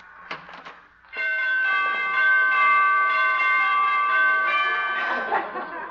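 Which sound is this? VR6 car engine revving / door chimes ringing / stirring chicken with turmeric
door chimes ringing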